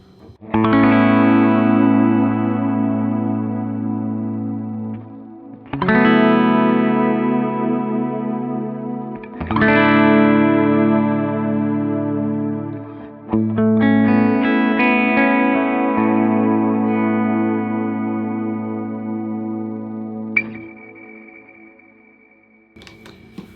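Electric guitar chords through a cloud reverb setting ring out into a lush, swelling wash of reverb, several long sustained strums decaying slowly with shimmering tails.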